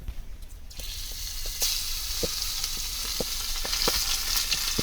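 River fish frying in oil in a kadhai, with a steady broadband sizzle and occasional sharp pops and crackles throughout, close and fairly loud.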